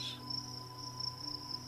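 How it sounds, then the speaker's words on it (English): Cicadas sing outdoors in a steady, faint, high drone during a relaxing night on a Greek island. "Listening to the peaceful singing of the cicadas outside, we fall into a deep, deep sleep."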